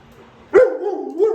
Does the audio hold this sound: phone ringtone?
no